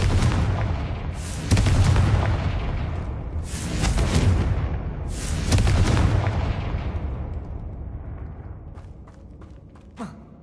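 Spell explosions in the video game Hogwarts Legacy: a run of heavy, booming blasts with sharp onsets, each fading into a long rumbling decay, followed by a small distant thump.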